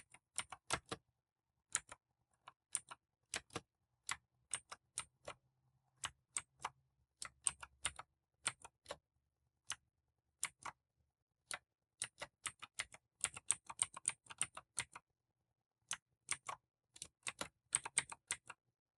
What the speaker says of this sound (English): Type exit and press enter key.